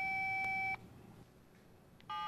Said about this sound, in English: Your phone is programmed to unlock by pressing 1, 2, 3.